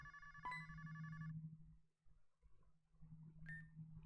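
A phone rings in the video game Pokemon Rejuvenation as a short, faint electronic ringtone chime over a low steady hum, followed by a second brief tone.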